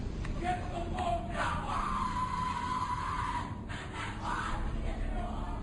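Distant, muffled shouting and yelling from a group at a Skull and Bones secret society initiation ceremony, raucous and continuous over a noisy, rough-sounding recording.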